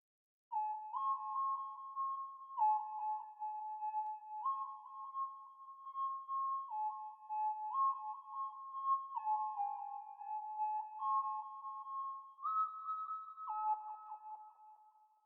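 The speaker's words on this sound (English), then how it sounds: "I have this weird lead type of sound that I got from Purity. This is called winter lead." Synth lead patch called winter lead from Purity in a pluggnb beat, a thin bell-like melody stepping between a few close notes in a repeating pattern, quiet and alone.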